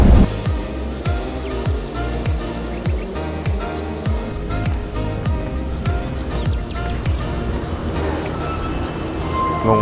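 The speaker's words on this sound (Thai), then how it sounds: "เราสองคนนั่งรถไฟ" A train in Tbilisi, Georgia rattles along the rails with a rapid, rhythmic clacking of wheels over track joints, loud and steady throughout, with a low rumble underneath.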